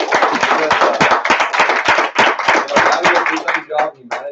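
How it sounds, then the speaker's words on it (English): An audience claps for a presenter after a talk, a close, loud burst of many hands with distinct sharp slaps, thinning out toward the end as a few last claps trail off. "We should really give him an applause"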